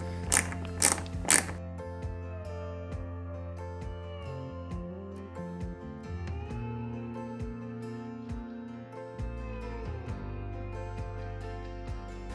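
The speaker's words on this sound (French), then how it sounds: "à l'intérieur on va venir la fixer avec une vis pareil DM" A DM screw is driven into a part of a 1/8-scale Hachette Ford Gran Torino model, giving a few sharp clicks at the start and then quiet, close ratcheting and mechanical clicks over a soft tonal background.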